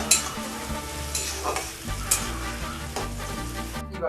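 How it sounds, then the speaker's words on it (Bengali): Chicken being stir-fried with onions in a pan, a steady loud sizzle with repeated scraping and stirring strokes throughout, no talk. "চিকেনটাকে ঢেলে দেবো। এবার কষানো হচ্ছে।"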